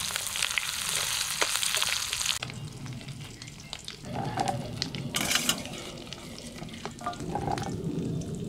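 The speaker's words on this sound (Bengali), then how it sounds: "তাই সাইডে ডিমটুকু ভেজে নিচ্ছি।" Fish roe from koi fish fries in hot oil in a pan, steady crackling sizzle with stirring clatter and scraping of the utensil, sizzle intensifying in bursts midway.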